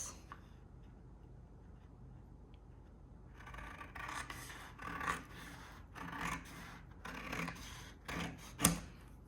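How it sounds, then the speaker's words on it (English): Scissors snip through watercolor paper while a bookmark is trimmed, a quiet stretch followed by a run of close, crisp cutting strokes and rasping scrapes, one sharp snip near the end. "I'm gonna take my scissors."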